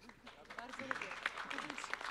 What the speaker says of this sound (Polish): Brawa dla pani dyrektor.